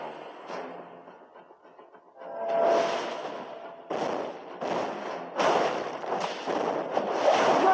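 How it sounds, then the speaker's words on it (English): Turret destruction in the Mobile Legends mobile game, a run of crackling explosive blasts that grow louder after a quieter start and come in several sharp bursts, with no talk. "Team destroyed a turret."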